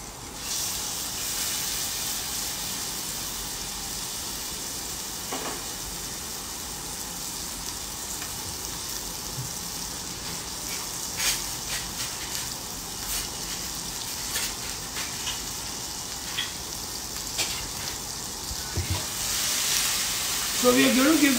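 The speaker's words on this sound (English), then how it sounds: "And we are cooking in lovely olive oil this time." Spice paste frying in olive oil in a pan, a steady close sizzle and crackle with occasional stirring scrapes, no talking.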